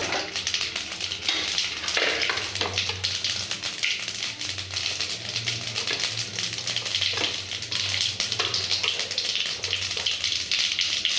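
Mustard seeds and urad dal sizzling and popping in hot oil in a pan, a steady close frying hiss with scattered crackles and light stirring, no talk.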